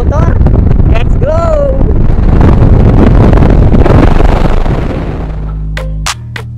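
Motorcycle ride with heavy wind buffeting the microphone, a loud low rumble of wind and engine throughout, with a voice talking over it early on before the noise drops away near the end.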